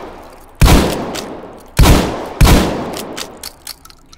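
Three loud, booming shotgun blasts in the H3VR virtual reality game, each with a long echoing decay, spaced unevenly over about four seconds, followed by faint mechanical clicks and no voices.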